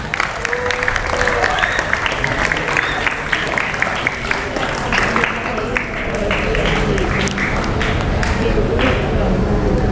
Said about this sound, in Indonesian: Tepuk tangan untuk yang laki-laki.